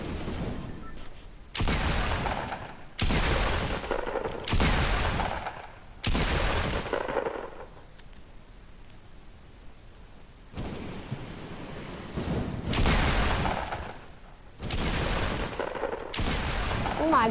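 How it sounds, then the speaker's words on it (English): Bursts of gunfire from a PS4 shooter game come in repeated loud volleys of a second or two each, broken by a quieter lull in the middle, while players talk over it. "I shot him about 100 times"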